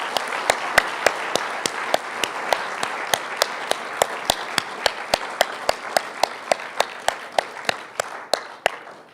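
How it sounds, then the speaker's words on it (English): An audience applauds student presenters at a health and nutrition presentation event, with sharp, evenly spaced claps standing out over a dense bed of clapping that carries on steadily for several seconds. "Let's give them a big round of applause."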